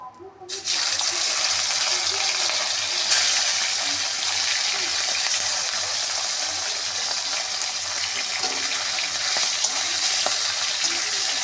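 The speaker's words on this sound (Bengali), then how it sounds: "পরিমাণ মতন তেল দিয়ে মাছটা ভেজে নেব" Fish sizzles and crackles in hot oil in a kadai, a loud steady hiss that bursts in suddenly and continues without pause.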